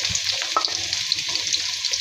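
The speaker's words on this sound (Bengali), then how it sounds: "পেঁয়াজটা ভেজে নিব" Chopped onion fries in hot oil in a kadai alongside whole cumin, garam masala and bay leaf. A steady close sizzle runs throughout, with faint crackles and light stirring scrapes.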